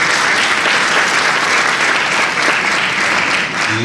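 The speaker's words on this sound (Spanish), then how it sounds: "un aplauso grande" A large conference audience at a summer symposium breaks into loud, dense, sustained applause, a continuous wash of clapping with no voices over it.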